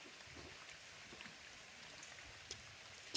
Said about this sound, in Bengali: বাইরে বৃষ্টি পড়ছে প্রচন্ড